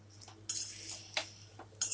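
A metal spoon stirs potatoes and onion in a pan, giving three sharp scraping clinks against the metal with quieter taps between them, close and clear.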